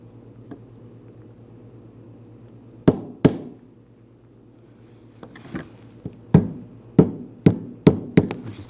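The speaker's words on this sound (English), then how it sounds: "Just the back end of a ball peen hammer, that will work." The back end of a ball peen hammer taps on an intake manifold runner lever part of a 2006-2009 Mercedes-Benz E350 3.5L engine, two sharp knocks followed later by a run of quick metallic taps, close and distinct over a low hum.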